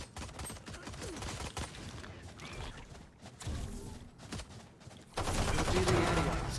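Sheriff revolver firing in Valorant, a few sharp single shots spaced apart amid busy in-game gunfire and crashes, with louder combat noise swelling near the end.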